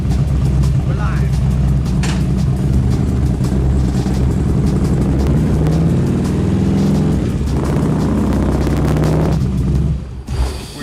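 A warmed-up Harley-Davidson motorcycle engine with a Screamin' Eagle setup runs steadily and loudly up close, a continuous low rumble that holds for about ten seconds before dropping off near the end.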